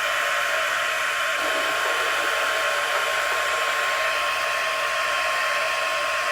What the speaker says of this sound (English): I highly recommend using a heat tool. So I'm going to heat set this on low.